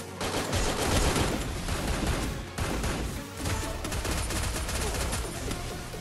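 Gunfire from a shooting video game played on BlueStacks, a dense, continuous fusillade of rapid automatic shots and bursts rattling loudly for several seconds.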